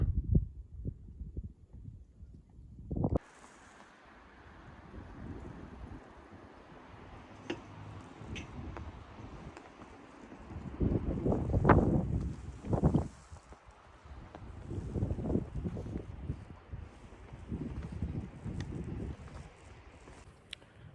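Strong wind on the summit of Monte Caina, on the Asiago plateau, comes in irregular low, rumbling gusts that buffet the microphone, with calmer gaps between them.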